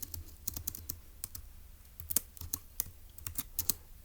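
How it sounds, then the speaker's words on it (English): Notes are typed on a computer keyboard in quick, irregular bursts of crisp key clicks, close and moderately loud against a quiet room, with brief pauses between runs of keystrokes. "So let's go ahead and type that up in our notes in section E."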